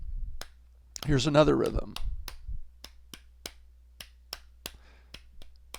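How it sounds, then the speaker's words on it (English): A single person claps their hands in a simple rhythm, sharp separate claps fairly close and evenly spaced, following a short spoken phrase at the start. "if you just clap your hands, this is a rhythm"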